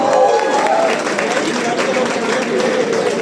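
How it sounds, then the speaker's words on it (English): At a hackathon grand finale prize announcement, a large crowd cheers and applauds for the winning team in a dense, continuous roar of claps and voices. "Guys, keep cheering."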